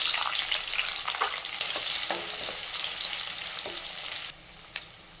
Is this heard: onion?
yes